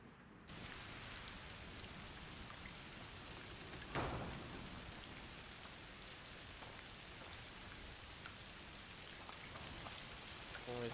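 Steady heavy rain falls in the video game A Plague Tale: Requiem, a dense, even hiss with a faint thunder-like crack near the middle and no talk.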